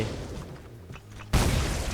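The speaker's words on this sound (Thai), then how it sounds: "จับระเบิดไปเช่นเคย" Grenade blast in the video game Undawn, a sudden loud broadband boom about two-thirds through, following quieter game ambience and faint rumble, then sustained roaring debris noise to the end.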